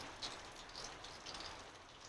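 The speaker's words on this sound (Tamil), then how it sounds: "லேசாக மழைப்பொழிவு இருந்துகிட்ருக்கு" Light rain falling with some wind in a rural home town, a faint, steady hiss of fine drops with no voices.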